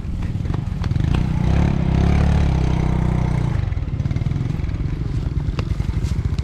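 A Yamaha Mio scooter engine runs close by, a buzzy idle that swells briefly in a short rev and then drops back to a steady, pulsing putter.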